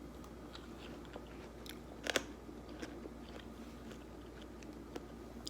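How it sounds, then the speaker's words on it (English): Bites and chewing on a small piece of homegrown watermelon, quiet and close, with a sharper crunch around the middle and soft scattered mouth sounds over a low steady background hum. "taste test of the watermelon. I'm just gonna take this small little piece."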